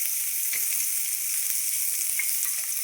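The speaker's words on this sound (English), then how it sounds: "So I'm going to go ahead and add our onion." Chopped onion hits hot bacon grease in a pan, giving a loud, steady sizzle throughout, with a few faint clicks from stirring, and no talking.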